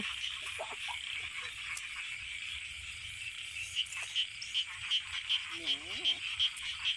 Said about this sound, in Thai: ฟังเสียงกบเสียงเขียดพี่น้